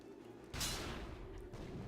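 A rocket launcher fires once in ARK Survival Evolved, a sudden boom with a rushing tail that dies away over a second, quiet and distant over a low background rumble.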